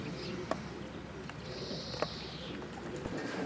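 Racing pigeons in an outdoor loft aviary give soft, faint cooing over a quiet background, with a couple of light knocks or wing taps in between.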